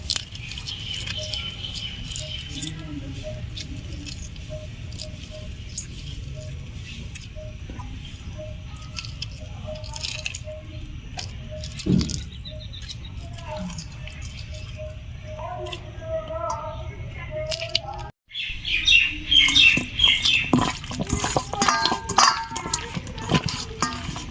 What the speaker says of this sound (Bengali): এখন আমি লেবুটার চিপের রসটা নিয়ে মাংসটা মাখিয়ে রাখবো।